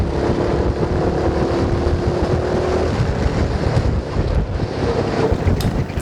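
A go-kart run flat out through the esses on a karting track, with a steady engine drone buried under loud, constant wind buffeting across the whole stretch, and no voices.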